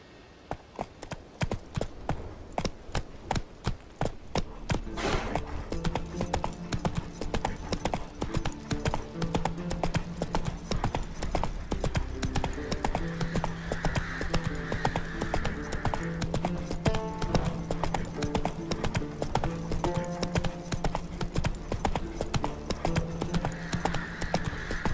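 Geralt's horse Roach in The Witcher 3 galloping, rapid rhythmic hoofbeats close and steady, slowing briefly at first before settling into a continuous run.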